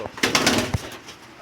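Black lotan pigeons give a brief, close coo with a faint flutter, followed by a short, muffled trailing sound.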